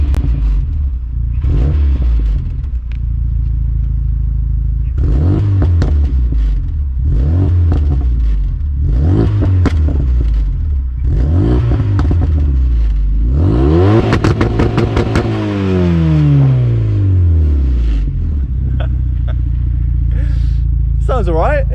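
A Renault Megane R.S.250 track car's engine revs repeatedly through a throaty full CGR exhaust, rising and falling in several bursts, with a long high rev before settling back to idle.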